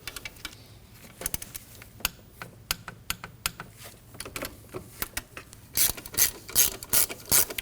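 A hand ratchet clicks in irregular bursts while tightening the slider jam bolt on the idler pulley of a 2003-2006 Subaru Baja 2.5L H4, starting faint and sparse, then turning louder and denser toward the end.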